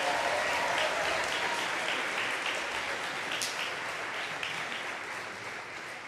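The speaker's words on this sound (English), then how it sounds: "let's go ahead and give him a round of applause" Audience at a high school athletic awards ceremony giving a sustained round of applause, dense steady clapping from a sizable crowd that holds for several seconds and slowly tapers.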